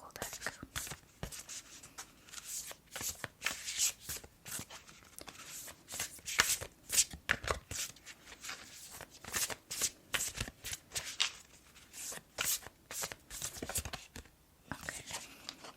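Soft, close shuffling of a Moonology Oracle card deck, a continuous crisp riffling and sliding of cards with quiet rustles, gentle and intimate with faint whispery undertones.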